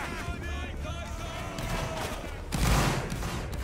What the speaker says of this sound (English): Reform right here and shoot